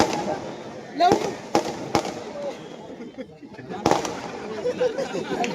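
Firecrackers go off in several sharp, loud cracks spaced a second or two apart, with someone speaking over them and crowd chatter in the background.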